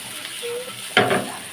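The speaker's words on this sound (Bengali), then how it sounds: "আমি কড়াই চিকেন করছি" Karahi chicken cooked in a wok: after a brief quiet moment, a sudden burst of sizzling and stirring rises close by and fades slightly.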